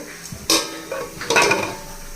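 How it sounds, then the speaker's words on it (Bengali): A cake pan set onto a wok and covered with a lid for a palm (taal) cake, giving a few sharp metallic clanks and knocks, the loudest near the start and a second cluster shortly after, with no talking. "কড়াইয়ের ওপরে চাপিয়ে দিলাম এবার একটা ঢাকনা দিয়ে ঢেকে দেব"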